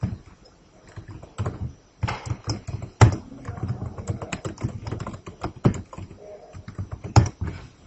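Close computer keyboard typing as an SQL insert command is entered: irregular bursts of crisp keystrokes with short pauses and a few heavier key presses, no voices.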